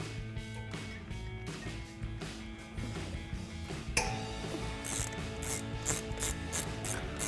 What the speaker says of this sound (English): Then we'll use our 15 millimeter socket and remove the banjo bolt off of the hose.